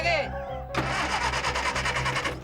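A car engine cranks on its starter, a fast rhythmic whirring churn that begins abruptly after a moment of voices and continues for a couple of seconds; people talk before it starts.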